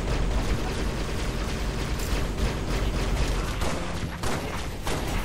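Rapid gunfire in the video game Halo: Spartan Strike, a dense, continuous stream of overlapping shots and impacts filling the whole stretch at steady loudness, with no voices.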